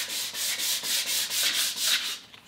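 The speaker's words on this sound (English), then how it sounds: "So I'm just rough coating this with a 150 grit." A rough waterborne wood finish is hand sanded with 150 grit sandpaper, giving a close, rhythmic hissing rasp of about nine quick back-and-forth strokes, heard alone.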